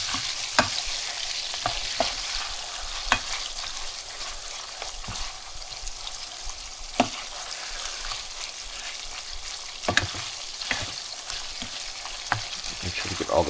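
Ground beef fries and is stirred in a pan, a steady close sizzle broken by repeated sharp scrapes of the utensil against the pan bottom, with no talking.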